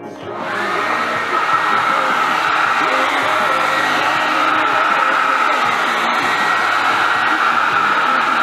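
A handheld blow dryer runs continuously, drying hair for flat-iron soft waves; a loud, steady airy whir up close that starts abruptly and holds without breaks.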